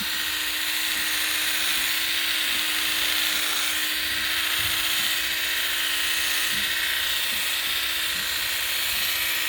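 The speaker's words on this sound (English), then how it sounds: "you want your clipper blade flat against the body and moving in kind of an easy motion" Electric horse clippers buzz steadily and close up as they trace-clip a horse's coat, a continuous high-pitched motor whine that never stops, with faint brushing and shifting underneath and no voices.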